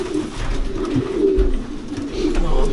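Racing pigeons cooing in a breeding loft, soft low throaty coos repeating over a continuous murmur of many birds close by.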